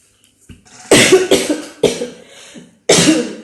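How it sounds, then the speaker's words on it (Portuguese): A preacher coughs several times during a church sermon in close, harsh bursts, a quick pair followed by two more separate coughs. "Eu tô com a tosse hoje."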